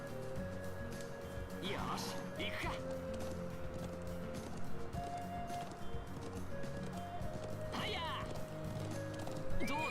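Horse neighs and whinnies with clip-clopping hooves in a video game set in the Highlands, two bursts of neighing over steady hoofbeats and background music, no talk.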